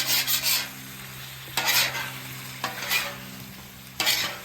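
Chicken wings and sauce reducing on a Blackstone griddle sizzle softly and continuously, while a metal spatula scrapes across the flat top in several short, sharp strokes close by.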